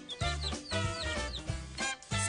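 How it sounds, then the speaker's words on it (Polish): Small hens and chicks on a farm, being fed corn, cluck in a series of short, close bursts with brief pauses between them. "Były też małe kury. Nazywamy je kurczakami."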